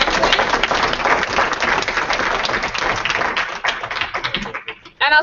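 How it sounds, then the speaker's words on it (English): An audience applauds at the end of an online talk about the future of TV editing, with dense, steady clapping for about five seconds before it thins out and then briefly swells again. "Can I get a round of applause for Kimberly"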